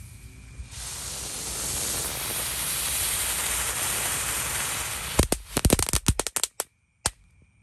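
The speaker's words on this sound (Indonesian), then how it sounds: "Selanjutnya kita nyalakan mercon teratai." A lotus firecracker burns with a long, loud, steady hiss for several seconds, then ends in a rapid series of sharp cracks and pops before falling silent, outdoors at night.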